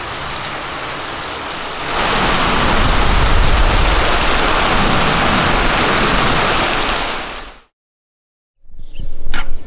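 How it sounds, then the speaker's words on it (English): Heavy rain in Nigeria pours in a dense, steady roar that swells louder after a couple of seconds, then cuts to silence before another burst of noise. "It rains in Nigeria, it rains very hard, as you can see."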